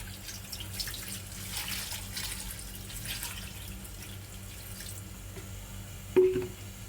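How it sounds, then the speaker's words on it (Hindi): Water runs and splashes steadily into a cooking pot of beef and spices, with a brief louder clatter near the end. "बस गोश्त के बराबर पानी डालना।"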